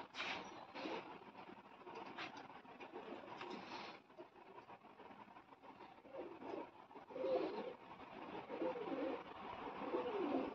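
Pigeons cooing softly in a steady, continuous murmur with a rumbling background hum throughout.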